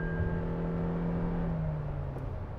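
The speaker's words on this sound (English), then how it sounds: "that's when you can hear the engine. It sounds a bit loud" A Toyota Innova HyCross hybrid with an eCVT gearbox drones steadily as it accelerates hard, its engine note sliding slightly lower as it settles. The sound stays fairly loud and close, with no talk over it.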